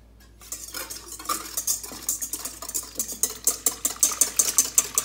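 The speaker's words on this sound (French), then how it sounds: "les 2 œufs entiers, on les bat" Two whole eggs being beaten in a bowl, quiet at first and then rapid rhythmic clicking and tapping of a utensil against the bowl, growing louder and steadier near the end.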